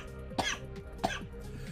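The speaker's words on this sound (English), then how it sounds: "I got a cough." Two short, harsh coughs about half a second apart, close and fairly loud against a quiet game-music background.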